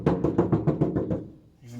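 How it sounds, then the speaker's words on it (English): Knuckles rap about seven times in quick succession on a Classic Mini's bare steel body panel, each knock a hollow, drum-like thud, close and fairly loud, fading into a quiet pause before a voice begins speaking at the very end. "we're going to do a knock test."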